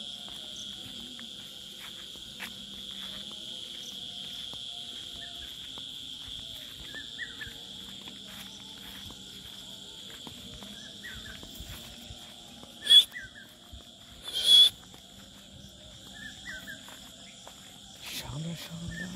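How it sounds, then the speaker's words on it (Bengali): Crickets drone in a steady high-pitched trill at dusk in a Bengal village, with scattered bird chirps around it and a few louder bursts, faint voices occasionally beneath. "চারিদিকে খুব পাখির শব্দ, ঝিঝি পোকার শব্দ।"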